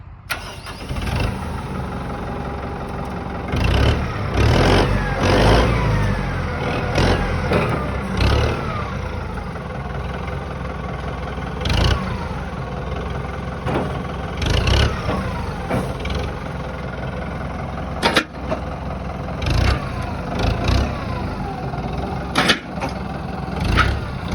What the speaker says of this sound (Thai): เดี๋ยวเรามาฟังเสียงเครื่องกันเลยนะคะ